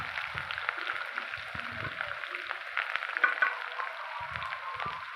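Cumin seeds and onion sizzle and crackle in a hot pan for a leftover bhakri chivda, a steady moderate frying hiss with small pops and a few faint low knocks throughout.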